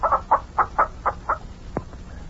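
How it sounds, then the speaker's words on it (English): Chickens on a farm clucking in a quick run of six even, close clucks, followed by one sharper squawk and a fainter trailing call. "The chickens all over the place here."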